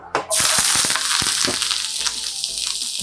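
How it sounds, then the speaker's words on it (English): Onions hit hot oil in a pan and sauté with a loud, steady sizzle that starts abruptly and continues close up, with faint stirring clicks. "What we're gonna do first, we're gonna saute up some onions."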